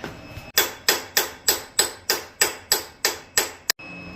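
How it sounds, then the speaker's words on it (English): Hammer blows strike a freeze plug on a Ford 300 engine: about eleven sharp metallic strikes in a steady, even rhythm, loud and close, each with a short ringing decay, and no talk. "I've given up and given into just hammering on the freeze plug back here"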